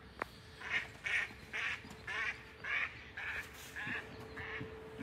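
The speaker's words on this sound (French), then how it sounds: "Ils sont heureux les canards." Ducks quack in a park with a river, pond and marsh, about eight distinct bursts of calls in a steady rhythm, moderately close and clear above a low outdoor background.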